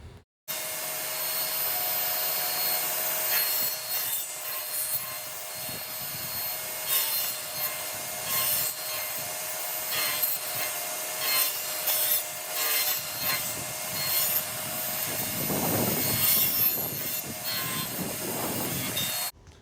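Table saw cutting a tenon into a scrap 2x4 for a joiner's mallet: a steady close whine of the running blade under repeated rasping, scraping passes of wood, growing louder and rougher near the end before stopping abruptly.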